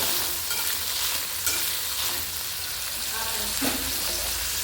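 Dried red chillies and curry leaves frying in hot oil for a country chicken curry, a loud close continuous sizzle with occasional stirring scrapes and small crackles.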